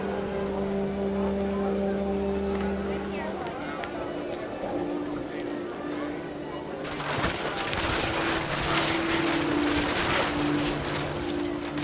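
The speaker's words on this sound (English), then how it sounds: "The rain came down in buckets then" Rain in the video game What Remains of Edith Finch patters steadily over low droning tones, then swells into a louder, heavier downpour about halfway through.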